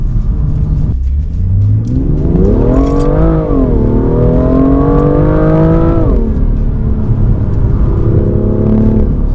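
A turbocharged BMW M2 engine revs and accelerates loudly and close, its tone climbing steadily, holding high, then dropping back to a lower drone.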